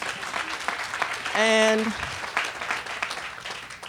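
Scattered audience clapping at a press conference, fairly soft and steady, running under a speaking voice with a brief tonal sound partway through.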